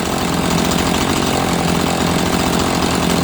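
A chainsaw with an 18-inch bar idles close by, its small two-stroke engine putting out a loud, steady, rapid buzzing putter with no pauses.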